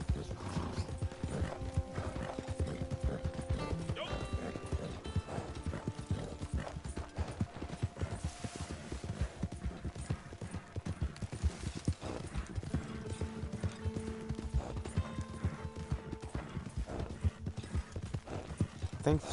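Horse hooves clip-clop steadily along a path in the Western video game Red Dead Online, a continuous close rhythmic trot with occasional mechanical clicks, a brief whinny and game music underneath.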